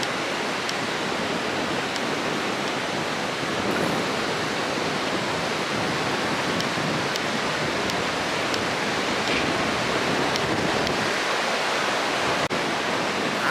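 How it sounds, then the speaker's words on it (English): Continuous broadband roar of surf at Cherry Grove Pier, a dense wash of breaking water with no distinct pauses, steady and fairly loud throughout. "The ocean's a pretty powerful thing"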